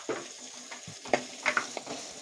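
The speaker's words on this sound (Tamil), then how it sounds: "வெங்காயம் நல்லா வதக்கிக்கலாம்." Onions with garlic and curry leaves sauté for Pallipalayam chicken, a soft sizzle broken by irregular scrapes and clinks of a spatula stirring in the pan, close and fairly quiet.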